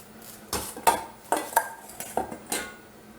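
Shrimp are pushed and spread around a souffle dish, giving a series of short clinks and scrapes of utensil against the dish, close and fairly crisp, with no talking.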